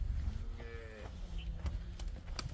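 A dairy cow on an open farm gives one clear, low moo from close range, followed by quieter farm noises and a few faint knocks.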